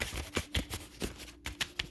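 Tarot cards shuffled by hand at close range, a quick run of soft riffling slaps and papery flutters in an uneven rhythm, with no talk.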